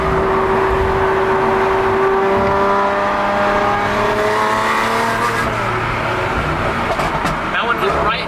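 A Lamborghini Aventador SVJ's V12 engine revs loudly from inside the cabin, with rising and falling engine tones through gear changes; a person talks over the continuous engine roar.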